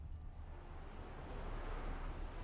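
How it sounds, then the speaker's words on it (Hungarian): Wind gusting across an outdoor scene in The Witcher 3: Wild Hunt, a steady broadband rush that swells slightly toward the end, with no voices over it. "Winds howling."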